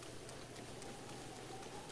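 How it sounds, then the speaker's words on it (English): Steady rain in Zelda: Breath of the Wild hisses evenly and softly, a continuous wash of faint patter with no talk over it. "Great, and now here comes the rain."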